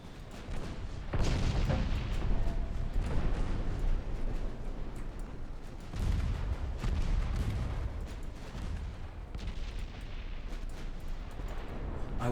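Heavy cruisers fire naval guns in Ultimate Admiral Dreadnoughts, producing repeated deep booms and rumbling blasts that roll over a continuous loud battle din with no clear pauses.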